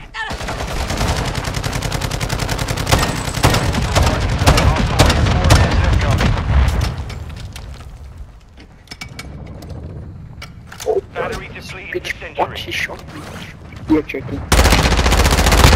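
Rapid automatic gunfire from a Call of Duty multiplayer match, loud dense bursts through the first half, then scattered shots and mechanical clatter, with a brief voice cutting in.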